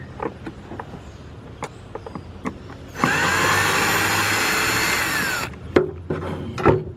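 A bolt inside the dashboard of a 2008-2011 Ford Focus is unscrewed during an AC evaporator core replacement, with a few sharp clicks and knocks around a roughly two-and-a-half-second whir of a power driver, close by with no talking.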